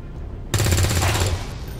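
A rifle shot from a soldier in XCOM 2 bursts in suddenly and loud, ringing into a rattling, rapid-fire crackle that lasts under a second and then fades into the background.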